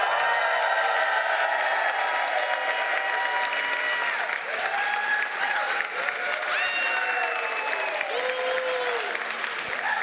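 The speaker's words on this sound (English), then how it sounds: "I don't know which contingent cheered louder" A festival audience bursts into sustained applause and cheering, steady and loud for ten seconds, with scattered whoops and whistles rising over the clapping.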